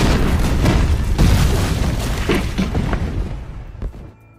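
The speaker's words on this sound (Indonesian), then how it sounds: "si teroris kini malah meledakkan kembali jembatan Mapo yang menjadi lokasi Jisoo meliput berita" A bridge blows up in a thriller film, a loud deep boom rumbling with crackling debris that slowly fades over a few seconds before cutting to near silence.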